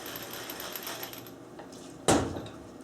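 A spoon scrapes and clinks in a pan of creamless carbonara sauce made with eggs and pepper, soft rhythmic stirring followed by one sharp metallic clank close by.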